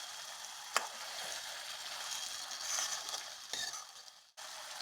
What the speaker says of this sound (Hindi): इसको एग मिक्स कर रहे हैं बिल्कुल आराम से।